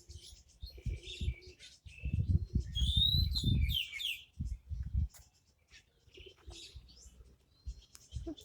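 Outdoor birdsong with sharp chirps and warbling calls, a dove-like coo in the mix, heard alongside low, muffled speech.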